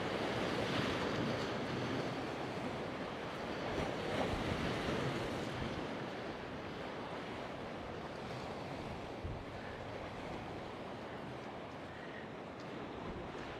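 Sea waves roll onto a beach at a campsite on the Italian coast in November, a broad continuous surf wash with some wind buffeting the microphone, steady and fairly distant.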